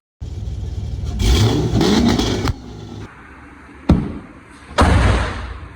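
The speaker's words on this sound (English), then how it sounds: "I'll cut to a clip real quick of it shooting the flames." A 2010 Chevrolet Camaro SS on a 2-step launch control, loud revving bursts with sharp cracking pops as flames shoot from the exhaust, close and with no talking.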